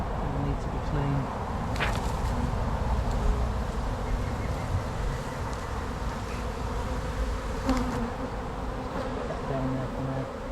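Angry honeybees swarm around an opened, long-abandoned hive during an inspection and split, a loud dense buzz filling the whole stretch, steady and close, with faint handling noises.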